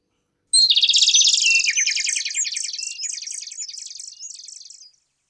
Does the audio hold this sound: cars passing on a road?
no